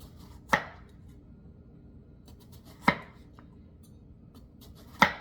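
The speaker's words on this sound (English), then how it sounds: "So right now I'm just slicing this thin" A knife slices thin pieces of a big seeded squash on a board, three sharp isolated chops spaced a couple of seconds apart over a quiet background.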